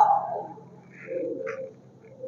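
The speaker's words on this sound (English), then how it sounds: "There is only birds here and when they make a sound, it feels like that there is something is running" Pigeons or doves coo in a dark, empty room of an old palace in Oran, two short calls rising over a quiet background, moderately close and alone with no talk.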